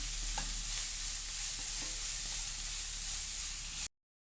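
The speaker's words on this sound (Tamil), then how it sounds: "இதை எல்லாத்தையும் நல்லா வதக்கிக்கலாம்." Vegetables with curry leaves and coriander sauté in a pan, a steady close sizzle with broad hiss and occasional faint stirring scrapes, running continuously for about four seconds before cutting off abruptly.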